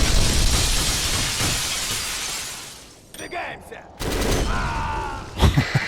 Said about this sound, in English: when you get like a huge explosion going off and the glass just shatters en masse